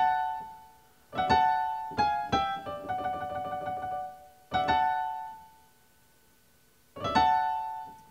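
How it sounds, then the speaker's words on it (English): A piano plays repeated bright sweeps up the keys, several separate runs ringing out between pauses, close and clear with no talking. "Okay, so when you gliss up, it goes like this."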